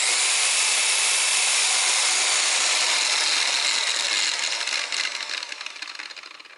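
A DeWalt rotary polisher with noisy gears runs loud and close, a steady high whirring grind that holds for several seconds and then begins to wind down and fade near the end.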